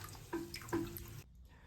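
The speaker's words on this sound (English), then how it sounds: "And just pour what you've collected out the pumps down the sink." Cleaning liquid collected from beer line pumps is poured into a sink, a steady splashing and gurgling stream with a couple of brief louder surges, close by, ending abruptly into near silence.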